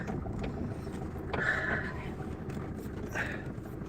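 A strong storm wind roars and buffets around mango trees, a continuous rough rumble that swells in gusts, with people talking faintly underneath.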